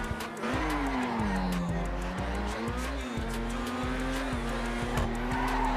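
A heavy sports car accelerates hard through corners, its engine note rising and falling with tire squeal mixed in. The sound stays loud and close throughout.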